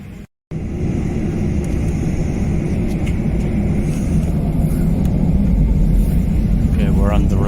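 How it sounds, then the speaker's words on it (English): An airliner on the runway before takeoff on a flight to London, a loud, steady cabin engine roar that holds throughout after a brief dropout at the start, with a voice speaking over it. "Okay, we're on the runway."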